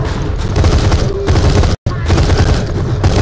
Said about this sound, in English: I want to shoot this.